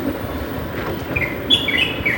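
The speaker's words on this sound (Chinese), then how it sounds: "早上小鸟是最开心的啊" Small birds chirp in a quick scatter of short tweets in the early morning in Zhenjiang city centre, heard over a low hum of city background.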